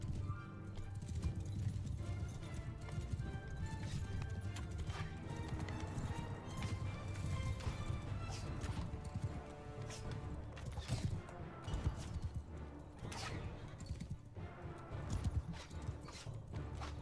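Cavalry horses galloping in the Bannerlord video game, a steady mass of clip-clopping hooves with occasional whinnies over a dense, continuous battle din of clashing and creaking.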